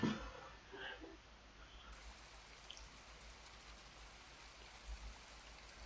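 Steady rain falls in the video game My Time At Portia, a soft even hiss of drops on surfaces with no voices, continuing evenly throughout.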